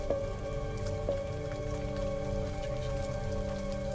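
Heavy rain in a video game pours steadily on a surface, a dense patter with a faint tonal hum underneath. No one speaks.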